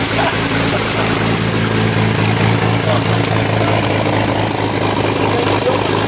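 A simple, smoke-free engine that runs like a tractor's idles just after starting, a steady loud chugging drone that holds even throughout, with no break and nothing else standing out.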